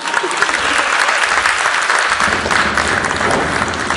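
Loud, dense applause from a concert-hall audience for a team member introduced on stage, clapping steadily and close with no talk over it.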